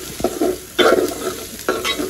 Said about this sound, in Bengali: আমি কিন্তু মশলাটা 5 মিনিটের মতো তেলে সুন্দর করে ভাজা দিচ্ছি